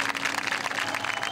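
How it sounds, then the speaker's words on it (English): A rousing round of applause at a high school mock DUI simulation, a brief burst of crowd clapping heard at a moderate distance with a faint steady hum beneath it. "This year's simulation ends with a rousing round of applause."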